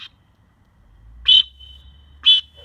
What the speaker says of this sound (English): this is a long distance blow is long